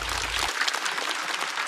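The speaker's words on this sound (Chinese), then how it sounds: "再次掌声送给雪冰。" A stand-up comedy show audience claps, a dense, even burst of applause that fills the room, heard alone, with a brief low hum at the start.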